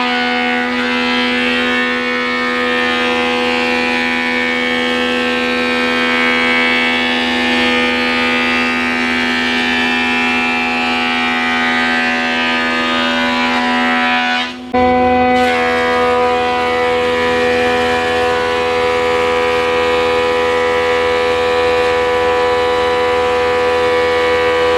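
Wood planer with freshly changed knives running steadily while planing a large board, a loud continuous high-pitched machine whine with strong tonal hum, briefly dipping near the middle before resuming.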